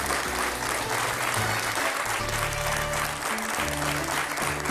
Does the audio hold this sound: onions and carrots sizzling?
no